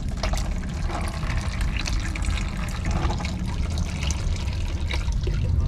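Fluid drains and trickles steadily into a bucket from a John Deere 6215R tractor during a farm service, a continuous close splashing and dribbling with no talking.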